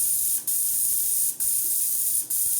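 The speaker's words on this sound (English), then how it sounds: "And then we just spray them with CRC when you're done." CRC cleaner sprayed from an aerosol can onto carburetor parts in a workshop: three long, loud, close hissing bursts separated by brief pauses.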